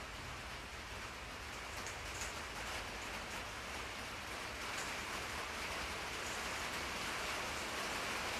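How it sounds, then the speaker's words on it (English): Steady rain falls outdoors beside a GM 4106 bus, a continuous even hiss of drops hitting surfaces that stays at a constant moderate level with no voices. "Sorry about the rain."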